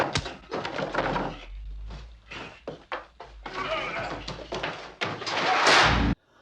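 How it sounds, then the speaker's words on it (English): A door slides and slams shut with a final heavy bang, after a run of bleating, squealing animal cries and clattering thumps. "Gotta love that fucking door slam."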